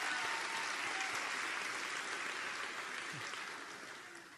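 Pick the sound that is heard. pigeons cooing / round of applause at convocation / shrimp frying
round of applause at convocation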